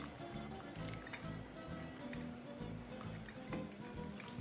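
Water pours into a pot of lentils being cooked for peanut butter lentils, a steady gurgling trickle running for several seconds at moderate volume with faint kitchen noise behind it.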